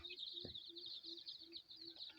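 Red junglefowl hybrid chicks peep in a steady high-pitched stream, with a few low clucks from an adult hen underneath, heard faintly at a distance.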